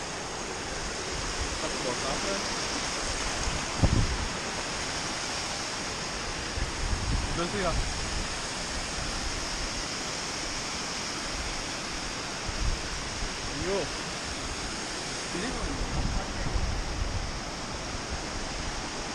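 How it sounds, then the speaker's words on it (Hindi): Continuous broadband hiss of steady rainfall on the Kailash Mansarovar pilgrimage trek via Lipulekh, with a few faint thumps and voices occasionally rising above it. "पानी लगातार बरस रहा है।"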